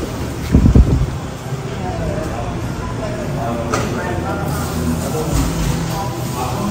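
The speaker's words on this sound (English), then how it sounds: "but it is windy. Look at the wind going." Wind gusts and buffets the microphone outdoors at a wharf in Orange Beach, Alabama, a steady rushing roar while a person talks nearby.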